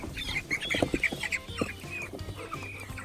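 Young Cornish cross chickens out on pasture, giving a busy series of short chirps and clucks at close range, overlapping in quick irregular bursts against light outdoor background noise.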